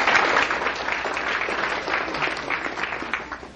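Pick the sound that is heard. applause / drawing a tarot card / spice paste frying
applause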